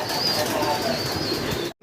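A pair of Archangel pigeons coos nearby, steady soft cooing throughout over background noise, cutting off abruptly at the end.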